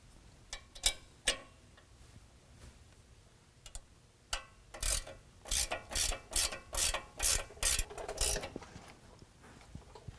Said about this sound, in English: we can go ahead and tighten this down with an 18mm